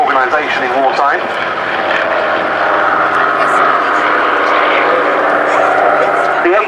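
Avro Anson, a wartime RAF air taxi aircraft, flying at a Duxford VE Day airshow, its propeller engines droning steadily and fairly loud throughout, with talk running over the engine noise.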